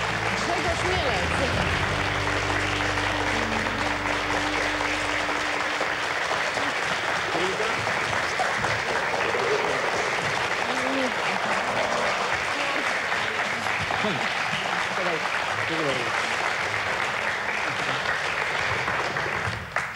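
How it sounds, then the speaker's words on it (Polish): Sustained studio audience applause on a Polish reality TV show, loud and dense clapping lasting throughout, with a low hum under the opening seconds. "od razu zaczęły się brawa"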